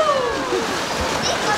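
A wave of water splashes over a boat on an amusement park water ride at Energylandia, a brief rushing slosh heard close amid excited riders' voices and whoops.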